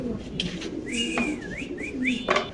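Pigeons call nearby at a pigeon market with gliding whistle-like notes over soft cooing and background chatter, a few short calls in quick succession.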